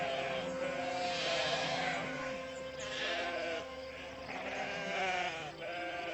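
Sheep bleat continuously in a pen, several overlapping nasal cries in a dense, close chorus, from a cartoon.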